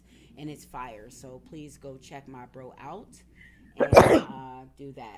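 A single loud, sharp sneeze bursts out near the end, breaking into someone's talking, with speech continuing before and after it.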